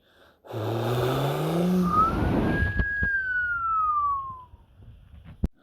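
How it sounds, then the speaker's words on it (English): A police siren wails once, rising and then falling in a long sweep, over the rumble of a vehicle engine. "The police car is on the way."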